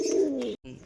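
A single pigeon offered for sale gives a short, low throaty coo close by, broken by a brief silence before faint murmuring resumes, quiet overall.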